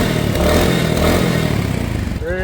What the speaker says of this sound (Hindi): बुलेट जैसी आवाज़ ही रहेगी